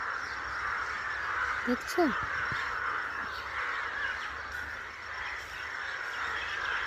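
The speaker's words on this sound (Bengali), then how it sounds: "এখানে দেখো পাখিগুলো," Several crows caw loudly and repeatedly while gathering and squabbling over perches on tree branches, with a steady outdoor bird chorus behind them and a person speaking briefly.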